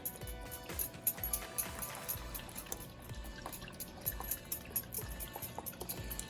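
Soy sauce and Worcestershire sauce trickle and drip in short bursts onto oxtails being seasoned for brown stew, faint and close with no talking.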